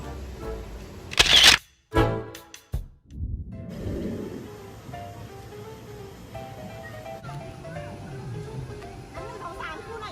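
A camera shutter fires a few quick clicks among friends at a nature-style cafe, followed by ambient chatter and soft background music.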